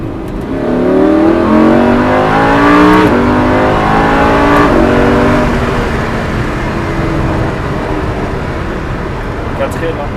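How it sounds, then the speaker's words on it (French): A Lamborghini Huracan V10 revs loud and close while driving, its rising engine note climbing through the gears in smooth sweeps before settling to a steady cruising drone. "Et puis le son de ce V10 quoi, hein, est magnifique."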